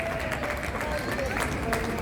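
Audience at a circus show applauding an artist, a continuous, even roar of many hands clapping with crowd murmur underneath.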